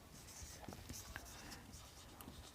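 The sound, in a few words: writing assumptions while solving a physics paper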